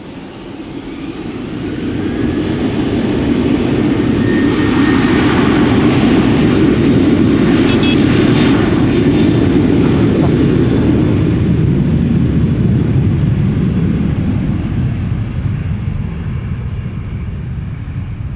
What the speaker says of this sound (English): KLM Flight 1109 is lining up. 737-900 outbound Stockholm.